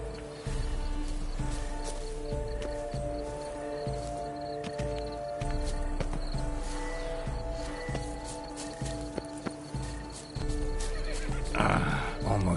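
A horse in The Witcher 3: Blood and Wine whinnies and snorts over game ambience, with clip-clop hoofbeats and rustling throughout and a louder burst near the end.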